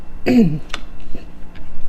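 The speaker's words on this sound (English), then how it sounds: "Pardon me, guys, I just had a coughing spell." A short harsh cough or two, with a throaty rasp and a few quieter catches trailing after, close by.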